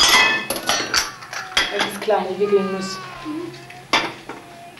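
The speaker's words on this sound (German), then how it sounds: "Ich werde jetzt das Geschirr spülen." Dishes being washed in a home kitchen, plates and cutlery clinking in sharp bursts near the listener while someone speaks over the clatter.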